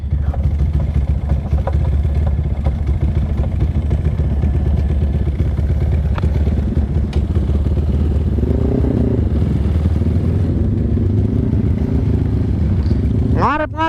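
Two stock motorcycles in a duel between a Honda Mega Pro and a Honda Tiger revving close by, a loud continuous engine roar and clatter with shifting pitch, while voices talk over it.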